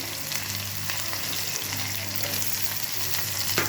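Onion and finely chopped garlic frying in a pan give a dense, continuous close sizzle that holds steady at an even level throughout, with no talking.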